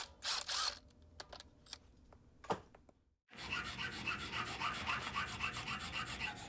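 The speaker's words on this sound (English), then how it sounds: "We have to sand this down to achieve a gap of between 8 thousandths of an inch" Abrasive sanding on an engine timing cover, a steady dense rasping scrape running continuously for several seconds after a few short strokes and a brief pause, close and fairly loud.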